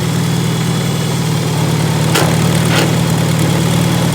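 A Super A tractor engine idles with the clutch disengaged, a loud, steady low chugging drone running throughout with a couple of faint brief clicks near the middle and no talking.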